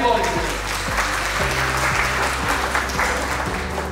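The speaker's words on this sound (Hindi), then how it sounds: "प्लीज एक बार जोरदार तालियां हो जाए बबली पॉल जी।" Loud, sustained clapping from a crowd at an achievers award ceremony, with a rhythmic low thumping music beat running underneath throughout.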